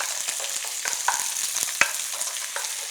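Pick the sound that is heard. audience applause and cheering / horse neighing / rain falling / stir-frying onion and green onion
stir-frying onion and green onion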